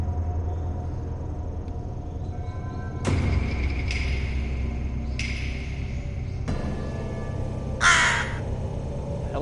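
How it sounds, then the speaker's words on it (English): Crow caws from the game Tokyo Dark ring out alone over a low ambient drone: four loud, harsh calls spaced a second or two apart, the last one brightest and closest. "Hello, bird."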